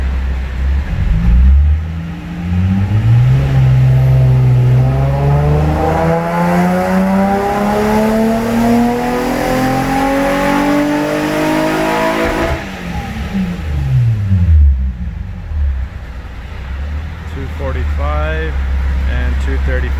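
A tuned 2003 Nissan 350Z engine runs a final dyno pull, rising steadily in pitch as it revs hard, then drops off and settles to idle, loud and close with speech over parts of it.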